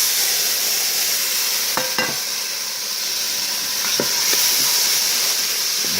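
Onions, peas and carrots stirred in a hot Ninja Foodi pot: a loud, continuous close-up sizzle with a few scattered knocks and scrapes of the spoon against the pot, and no speech.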